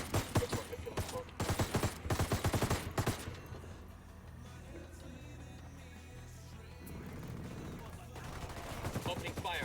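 Bursts of AK rifle fire in a video game, rapid volleys crackling loud and close in the opening three seconds, then quieter sporadic shots over a rumbling battle ambience, picking up again near the end.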